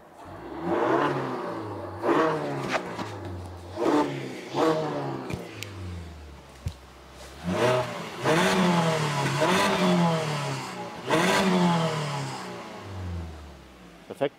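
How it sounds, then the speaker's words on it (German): A Mazda CX-60 plug-in hybrid with its original factory exhaust, its engine revved repeatedly in short rising bursts that fall back to a low idle, heard close and moderately quiet with no talking. "zum anderen dann natürlich auch mal so ein bisschen den Motor hochdrehen, dass man das Geräusch im Unterschied dann auch erkennen kann"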